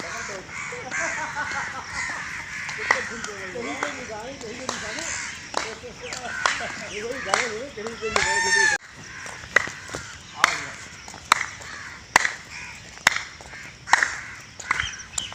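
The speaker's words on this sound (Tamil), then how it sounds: "இந்த பறவைகள் சத்தம் கேட்கும்போது மனசு எவ்வளோ லேசாக இருக்குது" Crows caw again and again in repeated bursts during a morning walk, near and fairly loud, with other birdsong and someone talking between the calls.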